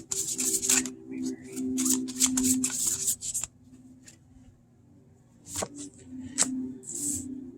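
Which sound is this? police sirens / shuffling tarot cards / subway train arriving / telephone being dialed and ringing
shuffling tarot cards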